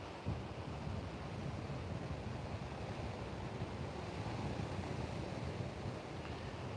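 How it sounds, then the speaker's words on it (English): Ocean waves and a sea breeze roll on at an oceanfront beach, making a dense, steady wash of surf with wind rushing across the microphone. The sound is continuous and fairly soft, with no voices. "That ocean breeze."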